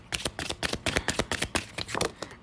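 A deck of tarot cards is shuffled by hand in quick, close riffling bursts, a rapid papery flutter of repeated snaps with no voice present.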